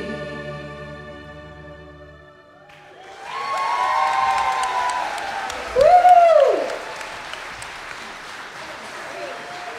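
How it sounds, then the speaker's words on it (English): A sustained orchestra and choir chord fades out, then the concert audience bursts into applause and cheering, with a loud whistle rising above the clapping midway before the noise settles into steady clapping. "Big applause for the Holmes Intermediate Orchestra and the JRH Choir combined."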